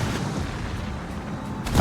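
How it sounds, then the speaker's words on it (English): Naval gunfire from a warship in World of Warships: a continuous low, rumbling roar throughout, rising to a louder boom at the very end, with no talk. "he finally opens fire"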